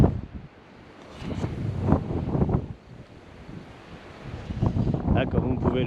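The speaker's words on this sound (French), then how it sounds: "Comme hier, peut-être même plus encore, il y en a marre de ce vent." Strong wind buffets the microphone while riding an SXT electric scooter, giving loud, uneven low rumbling gusts that swell and fade throughout.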